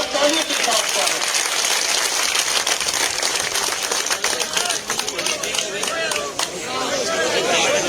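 Loud, sustained applause from a crowd at a village panchayat samiti gathering in Malsisar, a dense crackle of clapping that continues throughout, with voices mixed into the noise.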